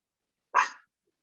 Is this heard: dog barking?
yes